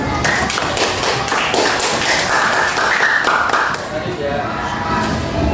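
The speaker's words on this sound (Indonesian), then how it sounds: "Sebenarnya kita tepuk tangan dulu." Elementary school classroom full of fifth-grade pupils clapping together in a science lesson, a dense run of quick claps over a few seconds with children's voices mixed in, then tapering off.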